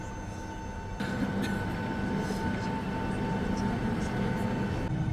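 Steady, loud engine roar fills a passenger airplane cabin on a flight from Tashkent to Medina, a constant broadband drone that thickens slightly after the first second and holds without breaks.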